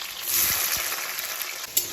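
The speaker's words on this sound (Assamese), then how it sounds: "ফাৰ্ষ্টতে মই আলুখিনি ফ্ৰাই কৰি লওঁ" Potatoes fry in hot oil in a wok, giving a bright continuous sizzle up close with a few soft stirring knocks beneath it.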